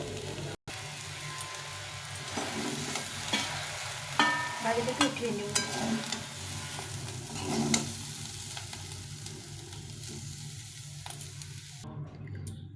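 Onion greens fry in a pan with a continuous sizzle, while a spatula scrapes and tosses them in irregular strokes. A voice speaks briefly over the cooking.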